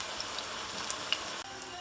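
Oil sizzles with a continuous soft crackle as aubergine fries in a pan, quiet and steady with a few small pops.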